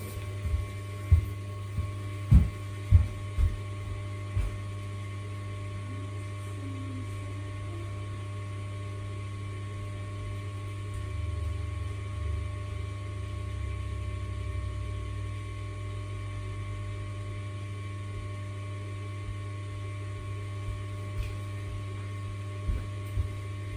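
An electric pottery wheel runs with a steady low motor hum throughout, with a few soft knocks near the start and end and a slight swell in the middle.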